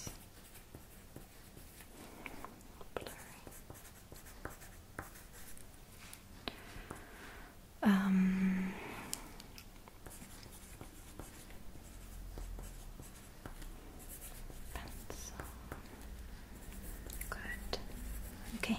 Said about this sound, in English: I'm going to write that down for you.